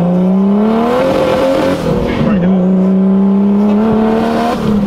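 A big-turbo BMW E36 engine revs hard and climbs in pitch, dips as it shifts, then pulls again, loud and close, with a rough, raspy tone.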